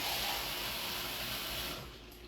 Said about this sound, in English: we're going to add water to it